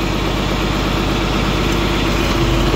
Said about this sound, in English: You can hear the tractor stop cycling oil, which is great.